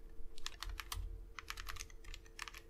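Quick bursts of keystrokes come from typing on a computer keyboard while writing Markdown text, in uneven clusters with short pauses and steady room hum underneath.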